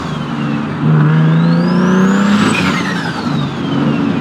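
Turbocharged Nissan 370Z engine revving up and then settling, with a loud steady drone and a rising then falling whine, heard close and alone.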